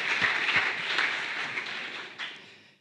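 An audience at a conference on local plant-based pallet production claps briefly. The applause is moderately quiet and thins out steadily until it fades to silence near the end.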